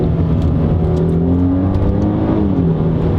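Mercedes C400 4MATIC with a 9G-Tronic automatic transmission, heard from inside as a loud, steady engine drone with pitch steps as gears change.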